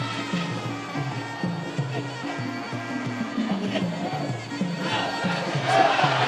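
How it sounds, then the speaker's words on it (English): A crowd of fans at a Muay Thai fight chants and cheers in a rhythmic, pulsing roar, steady and fairly loud throughout, rising slightly toward the end. "You can hear the fans behind us cheering on Phettechin with every strike"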